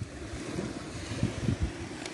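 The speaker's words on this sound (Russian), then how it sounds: "Шум моря." Evening sea waves wash onto the shore at Berdyansk, a faint, soft surf murmur mixed with wind buffeting the microphone, brief and low in level with no talk.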